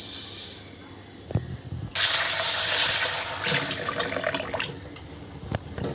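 Water pours and splashes into a container after a quiet start, with occasional clinks and swishing as beans are rinsed by hand.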